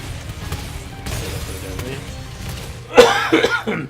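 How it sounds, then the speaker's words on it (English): A person coughs harshly near the end, a short burst of two or three rough coughs after a quieter stretch of low background noise. "I do apologise for the coughing"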